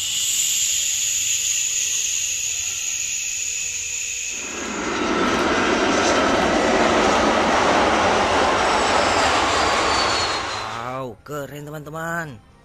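A toy airplane's recorded jet engine sound plays loud and close, a high whine that swells into a broad roar lasting several seconds, then fades as a voice begins talking.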